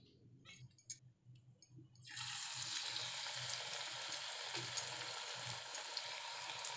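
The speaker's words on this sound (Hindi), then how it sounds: "तेल गरम हो गया है। अब हम इसमें प्याज के पकोड़े बनाएंगे।" Onion pakoras dropped into hot oil: a few quiet clicks and handling noises, then a loud, steady sizzle of frying that continues to the end.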